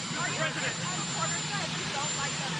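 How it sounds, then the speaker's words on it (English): A helicopter runs loudly behind an outdoor White House press gathering, a steady roaring engine drone that fills the whole clip under people talking. "you have a helicopter that's raging back there"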